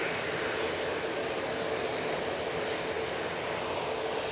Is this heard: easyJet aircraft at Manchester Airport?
yes